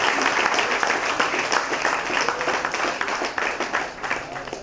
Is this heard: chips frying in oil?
no